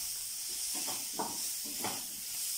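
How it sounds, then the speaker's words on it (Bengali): Onion and capsicum stir-fried on medium-high heat for gobi manchurian, a steady hiss with a few soft stirring scrapes and clatters, close and moderately loud. "যখন পেঁয়াজ আর ক্যাপসিকামটাকে এভাবে 1 থেকে 2 মিনিট তোমরা মিডিয়াম টু হাই হিটে ভালোভাবে নেড়ে নেবে"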